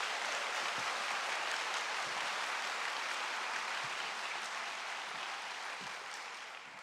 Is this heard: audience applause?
yes